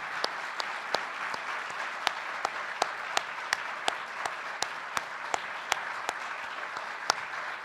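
A town hall audience of employees gives a round of applause, a thick wash of steady clapping with sharp, evenly spaced claps standing out in a regular rhythm from start to end.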